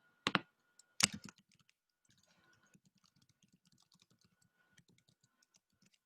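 Two sharp clacks open the clip, then a computer keyboard is typed on with light, scattered keystrokes, faint and close in a quiet room with no talking.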